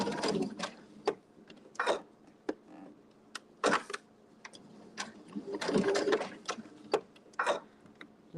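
A sewing machine doing free-motion quilting on a floral quilt block, heard as bursts of rapid stitching that start and stop repeatedly with short pauses between.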